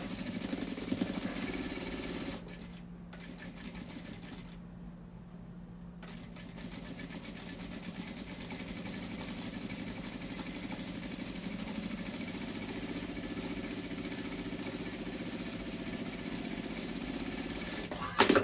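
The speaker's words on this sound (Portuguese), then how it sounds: "Venho aqui na máquina e vou costurar isso aqui." Sewing machine stitching fabric for a children's bunny outfit, a continuous fast mechanical whir that briefly pauses, then runs steadily at close range.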